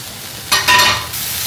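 Broccoli sizzling in a hot pan, a loud close burst of hissing and crackling that swells after a quiet start and settles into a steady sizzle, with no talking.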